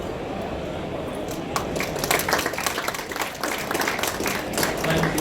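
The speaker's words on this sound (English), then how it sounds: "Can we have another round of applause for them, please?" A tech conference audience in London applauds a live demo with a steady, dense wash of clapping that swells after the first couple of seconds and holds, a voice faintly heard beneath.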